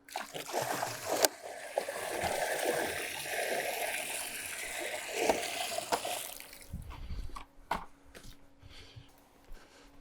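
Borate conditioner granules poured into water make a steady splashing pour for several seconds, then stop, leaving a few scattered knocks and clatters.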